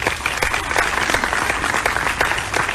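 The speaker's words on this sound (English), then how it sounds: "So let's give her a round of applause as well." An audience at a national research summit applauds a speaker. The clapping is loud and close, with individual sharp claps standing out from a steady crowd patter.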